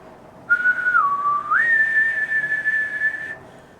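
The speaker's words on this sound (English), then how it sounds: "but just like you're whistling." A single clear whistled tone, dipping then rising to a steady higher pitch and holding for a few seconds, close and alone.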